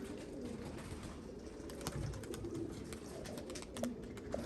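Pigeons, including a young bird and breeding stock, coo softly in low, throaty bursts against a steady background hum, a few calls scattered through the stretch.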